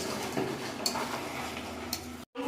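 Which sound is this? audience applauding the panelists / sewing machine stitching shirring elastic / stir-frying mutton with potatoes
stir-frying mutton with potatoes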